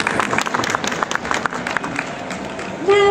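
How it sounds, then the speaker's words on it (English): Applause from an audience at a live demonstration of Honda's Asimo robot, a dense steady round of clapping that fills the clip, with voices mixed in and a brief tonal sound near the end. "Come on, a round of applause, guys, come on."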